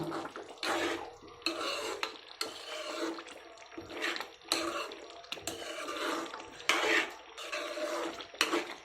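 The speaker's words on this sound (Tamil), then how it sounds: "நம்ம தக்காளி ஊறுகாய் தாளித்து விட்டது இப்போ எப்படி இருக்குன்னு பார்க்கலாம் வாங்க. பாருங்கள், நல்லா வந்து கொதிச்சிட்ருக்கு." Tomato pickle bubbling in a pan after tempering, a steady sizzling, spattering boil close by with repeated bursts of crackle and a clink of utensils now and then.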